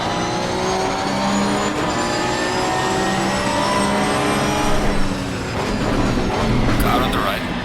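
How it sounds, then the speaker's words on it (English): A Porsche 991 race car engine in Assetto Corsa Competizione, during a rain race, revs high and loud with rising and falling pitch through the gears and constant roaring drone. "let you all hear the beautiful noise of the Porsche"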